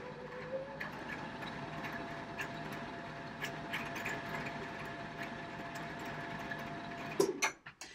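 A sewing machine winding a bobbin: a faint, steady mechanical whirr running continuously for several seconds, ending in a brief clatter as it stops.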